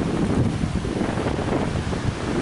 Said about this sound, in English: here's the ocean waves you can see